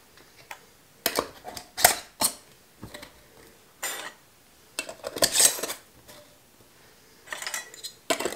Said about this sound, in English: And then I'm going to apply my favorite four jars lids and rings to fingertip tight.